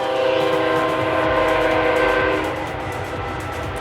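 A train horn blares loudly and steadily over the rumble of a passing train, the sound easing slightly toward the end.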